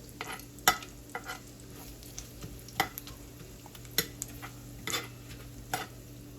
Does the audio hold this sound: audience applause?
no